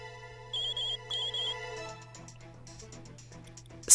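An Explorer Gadget rings in the video game Pokémon Super Mystery Dungeon with two short, high, trilling ring bursts over steady background game music, followed by a busier musical passage.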